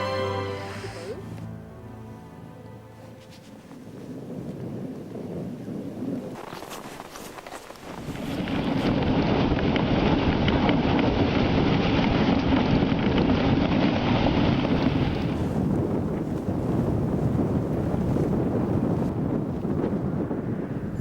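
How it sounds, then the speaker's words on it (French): Piteraq, a katabatic wind pouring down from the ice cap on Greenland's east coast in winter, rises into a loud, steady roaring rush after a quieter start and buffets the microphone for the rest of the stretch. "Le fameux pittéraque de cette région, vent katabatique en provenance de la calotte glaciaire, vient de se lever."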